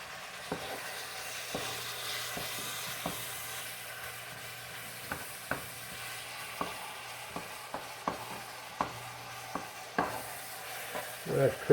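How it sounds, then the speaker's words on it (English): Hamburger meat frying in a pan for soup, with a steady low sizzle broken by repeated sharp scrapes and clinks of stirring that quicken toward the end; no talking. "If you fry that hamburger just for a minute."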